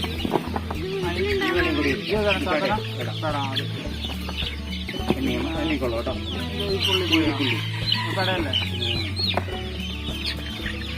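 Several chickens cluck and squawk busily close by at a hatchery's weekly pet market in Mannuthy, Thrissur, a dense overlapping chorus with a steady low hum underneath.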